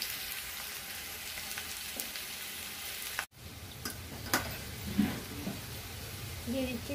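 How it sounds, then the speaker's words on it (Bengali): Slit green chillies go into a pan of frying taro, giving a steady broadband sizzle with a brief dropout partway, followed by a few stirring clatters and scrapes close by. "দিয়ে দিচ্ছি চেরা কাঁচা লঙ্কা।"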